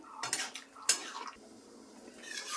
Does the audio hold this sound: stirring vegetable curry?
yes